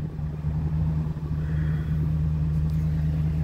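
A 2010 Ford E350 van engine idles steadily with a low, even rumble and hum, close and continuous with no talking.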